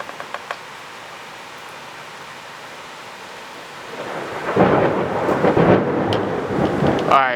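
Thunderstorm over Southeastern Pennsylvania with close lightning strikes: quiet steady rain at first, then a loud rumbling thunder crash builds and rolls on, crackling and booming near overhead.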